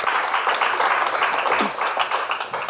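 A live audience at a comedy roast claps in a dense, steady burst of applause that thins slightly toward the end, with a brief voice mixed in.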